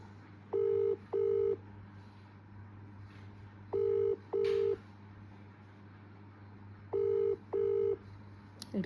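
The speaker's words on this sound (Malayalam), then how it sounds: "കോളിങ് മാത്രമേ ഉള്ളൂ, റിങ്ങിങ് ഇല്ല. റിങ്ങിങ് ഉണ്ട്." A mobile phone call rings out with three pairs of electronic ringback tones, each a short double beep separated by pauses, over a low steady hum.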